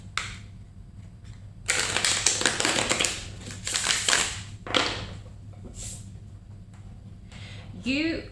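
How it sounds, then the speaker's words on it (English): Tarot cards shuffled by hand in a few dense papery riffling bursts over a low steady hum, with a short voice near the end. "Last shuffle."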